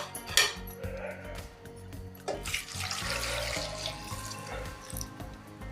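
Water pours into a pressure cooker holding 300 grams of potatoes, splashing and gurgling unevenly at close range with a few clinks of the pot.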